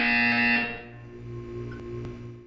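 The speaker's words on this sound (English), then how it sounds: "You will hear a buzzer. When you hear the buzzer, look down at the floor." A harsh, steady electronic buzzer tone from the video game Portal 2, loud at first and then cutting to a lower hum with faint clicks; no speech.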